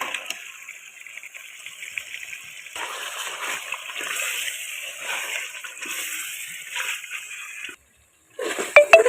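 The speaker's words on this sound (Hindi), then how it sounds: "अब हम इसमें 1 किलो चिकन ऐड कर रहे हैं जी" A kilo of chicken goes into fried masala in a pot, giving a steady hissing sizzle and watery splatter for several seconds, a brief pause, then a louder burst of sizzling and clatter.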